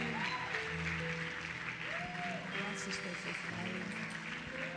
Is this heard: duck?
no